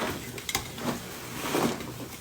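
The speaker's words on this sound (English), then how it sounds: "I'm just going to mix this chocolate into this popcorn and it's going to melt" Popcorn being stirred with melting chocolate and marshmallows in a pan, soft scraping and rustling strokes with a few light clinks of a utensil, close and continuous.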